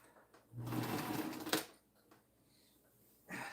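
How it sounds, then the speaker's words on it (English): A sewing machine threaded with blue thread stitches a quilt, a close whirring burst of about a second followed by quiet, then a brief restart. "My machine is all threaded up with blue thread."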